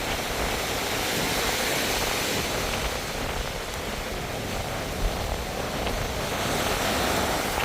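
Waves wash along a seashore in a steady, broad roar of surf noise with no clear breaks, fairly close and continuous throughout.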